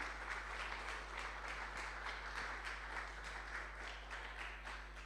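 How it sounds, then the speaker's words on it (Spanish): A church congregation giving applause in worship, quiet, steady clapping heard from a distance beneath a low constant hum, without talk. "Dele ese aplauso fuerte al Señor."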